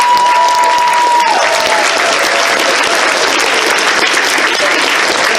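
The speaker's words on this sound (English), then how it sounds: "Give a round of applause!" A charity comedy show audience at MFF 2019 gives loud, continuous applause, a thick roar of clapping and crowd noise throughout, with a brief tonal whistle-like sound near the start.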